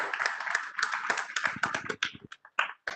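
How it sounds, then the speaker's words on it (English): Applause from an audience at a half-day seminar on accounting and audit standards, loud scattered clapping that thins toward the end into a few separate claps. "Please put him a big round of applause."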